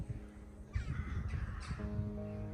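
Crows caw repeatedly from the trees beside an estuary as they gather to roost near a church, several harsh calls at a moderate distance against a steady outdoor background.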